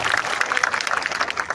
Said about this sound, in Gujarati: એના માટે એકવાર જોરદાર તાળી પાડો